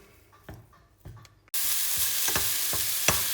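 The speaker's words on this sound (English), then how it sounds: "So all we're doing here is just breaking up the mince and just letting it all cook through." Minced game meat is stirred and browned in a pan. A few quiet utensil taps come first, then a loud, steady sizzle starts abruptly, with rhythmic scraping knocks as the mince is broken up.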